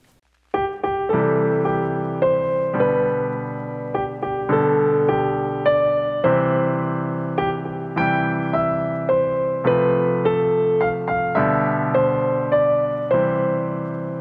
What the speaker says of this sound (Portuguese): A harmonização mais simples possível em Dó maior